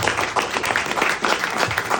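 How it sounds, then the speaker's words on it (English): A small audience at a talk claps briefly, with the scattered, uneven applause close and moderately loud for a couple of seconds. "Applause to Adar"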